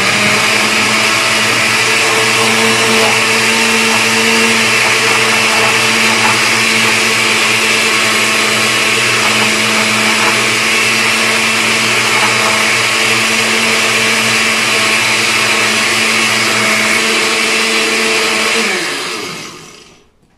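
A blender runs steadily and loudly for about eighteen seconds, mixing a cookie ice cream pop base, with a constant motor whine and whirring churn before it winds down and stops.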